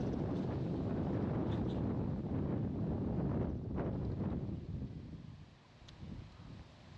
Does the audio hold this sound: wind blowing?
yes